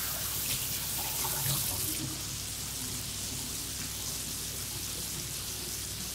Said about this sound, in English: It's like a hand washing marathon.